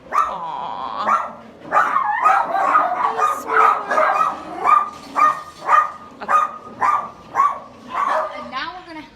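Small-breed dogs bark in animal shelter kennels, sharp yaps repeating in a quick, steady run of overlapping barks with some whimpering, close and loud, while people talk nearby.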